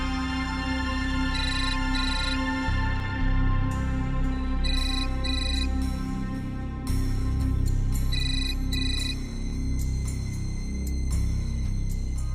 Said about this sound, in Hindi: क्या बात है अनु, तुम फोन क्यों नहीं उठा रही हो